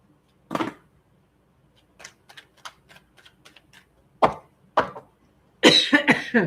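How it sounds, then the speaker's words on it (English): A few sharp coughs, separated by quiet pauses and light clicking, ending in a closer burst of harsher coughing. "I'm coughing because I'm freezing."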